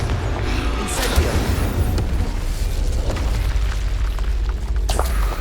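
Spell explosions from Confringo and Bombarda in Hogwarts Legacy on PS5: a steady loud rumbling roar with a few sharper bursts and cracks near the start and end, no speech.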